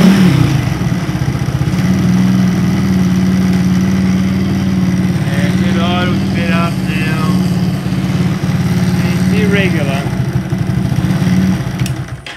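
Supercharged postie bike engine running steadily on throttle with its blower, a continuous mid-pitched motor drone held throughout, with someone talking over it partway through.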